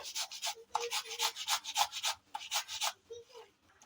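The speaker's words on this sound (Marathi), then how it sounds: "आता काकडी किसून घेते" Cucumber being grated by hand for a Konkan-style sweet, a close, rhythmic run of rough rasping strokes that comes in bursts with brief pauses and trails off near the end.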